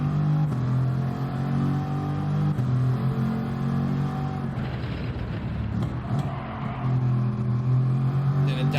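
A race car engine in Gran Turismo 7 drones and revs continuously, its pitch rising and dipping through quick downshifts, loud and close throughout with no talk.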